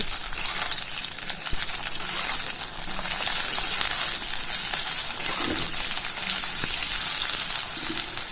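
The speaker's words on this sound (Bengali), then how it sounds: "বেশ ব্রাউন করে আমি বেগুনগুলোকে ভেজে নেব" Eggplant pieces frying in hot oil in a pan for an egg curry, a steady loud broadband sizzle and crackle that continues without break throughout.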